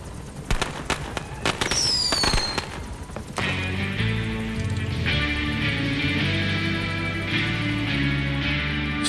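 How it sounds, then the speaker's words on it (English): In Metal Gear Solid 5, a rapid crackling burst of firework pops and whistles, then a steady layer of synthetic game music and hum with scattered faint bangs continuing underneath. "Sounds like fireworks and not a gun that."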